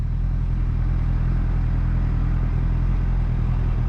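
A 2023 Suzuki Hayabusa motorcycle being ridden, its engine giving a steady low rumble with a rough, pulsing texture, loud and constant from start to finish with no speech.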